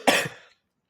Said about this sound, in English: You got to cut the coughs out.